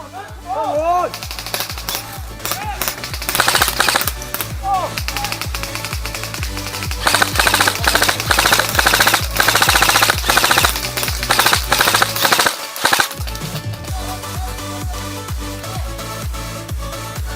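Rapid bursts of airsoft gunfire during a team airsoft game, close and dense with sustained volleys and clattering, under shouted voices from players.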